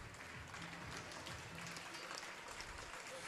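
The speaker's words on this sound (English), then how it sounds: "So let's give a big round of applause." A round of applause at a kindergarten graduation day sounds faint and distant, a soft, even wash of clapping from the audience continuing without a break.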